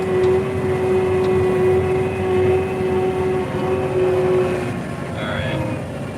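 A combine harvester at work in a soybean field gives a steady, loud mechanical drone with a strong tonal hum that holds evenly throughout, near and continuous.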